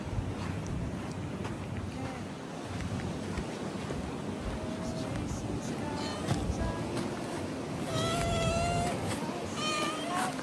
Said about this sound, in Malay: Ini adalah pantai yang selalunya ada banyak kucing.